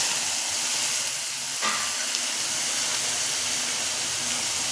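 Spices frying in a pan while cooking fish curry, giving a steady, moderately loud sizzle and hiss throughout with no talking.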